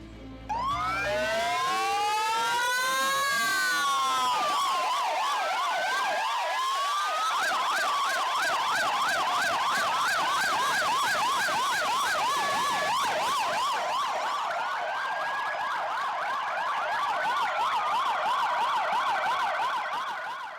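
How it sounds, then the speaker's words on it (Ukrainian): Several fire engine sirens wail together at a soldiers' funeral, rising and falling in overlapping sweeps, loud and sustained with no voices. "Останню путь бійців проводжали під звуки сирен пожежних машин"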